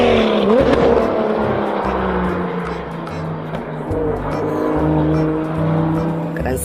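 A toy race car plays a revving race-car engine sound effect, a loud electronic whine that rises and falls over a repeating pulsing beat, heard close up.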